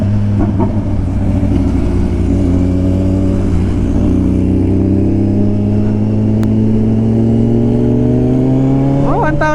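A Kawasaki Ninja 1000 SX motorcycle accelerates hard in first gear, its engine note climbing steadily in pitch as revs build, loud and close, with wind noise and a brief voice near the end.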